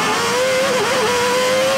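Ayrton Senna's McLaren MP4 Formula 1 car roars at high revs through the streets of Monaco, a loud, sustained engine whine that wavers briefly before cutting off abruptly.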